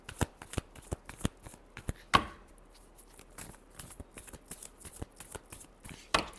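A tarot deck is shuffled over and over in quick, crisp riffling bursts, loud and close, with two louder slaps where the cards are squared together.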